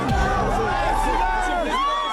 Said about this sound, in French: son nom est scandé par une foule en liesse